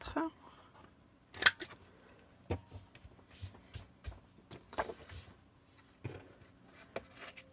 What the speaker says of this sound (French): j'avais envie de couper les angles, donc je vais le faire. J'utilise toujours l'angle de 4 mm